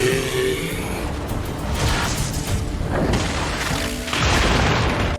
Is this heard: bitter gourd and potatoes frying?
no